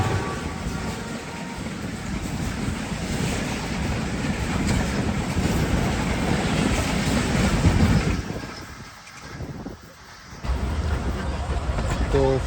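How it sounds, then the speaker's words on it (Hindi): The Hazara Express, hauled by a PHA or HVU locomotive, passes by with a loud, continuous rolling rumble and rattle of coaches that dips briefly near the end before resuming. "आवाज़ से लग रहा है कि PHA है या फिर HVU है, तो जिससे एक बात ज़ाहिर है कि ये हज़ारा एक्सप्रेस होगी"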